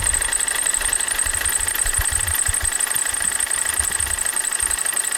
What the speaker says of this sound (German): Hier seht ihr schon den Keilriemen, wie er sich dreht.